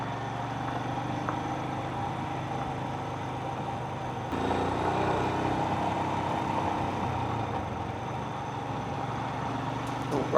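A Royal Enfield Himalayan motorcycle riding a trail, its engine droning steadily up close, then a noticeable step up in revving partway through as it shifts into third gear and keeps pulling.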